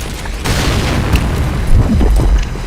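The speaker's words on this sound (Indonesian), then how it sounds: "Wah, bom." A grenade detonates in a video game with a deep, heavy boom that lingers as a rumbling roar for a couple of seconds, loud and close with no talk over it.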